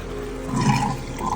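Liquid draining out of a Spike Brewing CF15 fermenter on a brew day for an IPA, a steady low watery rush that swells midway and holds, with no voices.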